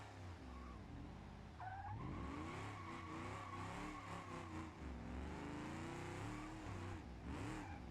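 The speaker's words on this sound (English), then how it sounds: "I am going to have to be careful with over revving it" Car engine in the BeamNG.drive video game during a tough truck challenge, revving hard and rising and falling in pitch with tire squeal, loud and steady throughout, no voices.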